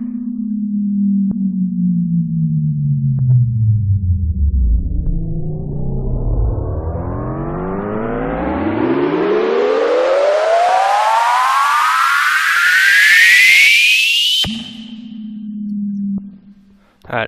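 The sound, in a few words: synthesizer patch played in Native Instruments Massive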